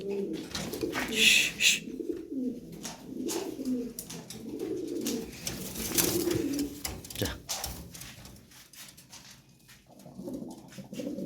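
Lahori fancy pigeons at a sale coo steadily in low, throaty rolls, several birds overlapping close by, with scattered faint chirps and a brief bright rustle near the start.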